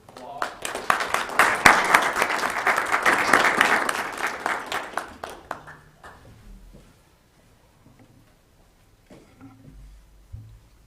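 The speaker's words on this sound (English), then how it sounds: "Let's give him one more round of applause." Applause from an audience at a Weber County public meeting, a dense burst of clapping for about five seconds that fades out, followed by faint room noise and a voice murmuring.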